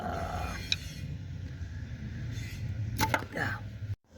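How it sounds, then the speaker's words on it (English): A screwdriver breaks up brittle fragments of old plastic coolant elbows inside a GM 3800 engine. A few sharp cracks and clicks stand out over a low, steady background. "We're just going to break that up with a screwdriver."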